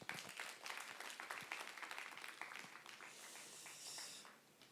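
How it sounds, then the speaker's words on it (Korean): Audience applause fills a church leadership camp gathering, a dense, steady crackle of many hands clapping at moderate distance that keeps up for several seconds before thinning slightly. "모두에게 한번 박수하시겠습니다"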